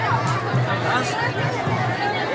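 A heavy crowd at the Gubbi temple fair fills the air with dense, continuous chatter and overlapping voices, a steady close hubbub with no pauses.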